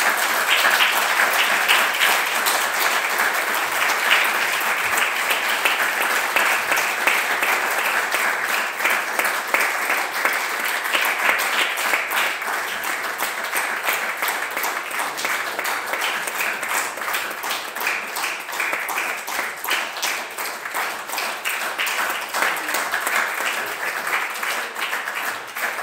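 Applause in a provincial council assembly chamber in Liège, a long steady round of clapping from many hands, fairly loud and even throughout, with no speech over it.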